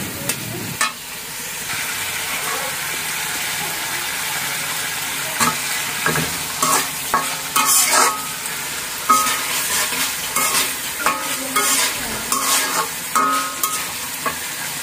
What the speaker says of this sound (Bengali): এখন এগুলোকে ভালো করে কষিয়ে নিচ্ছি।